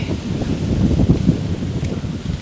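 Outdoors in a residential area in Spain, wind buffets and rumbles low and close against the microphone in uneven gusts, with faint rustling and no talking.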